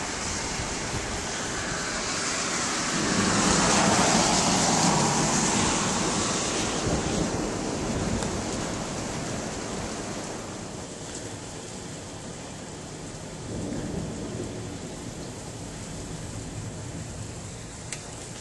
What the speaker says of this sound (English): Here comes a really bad storm.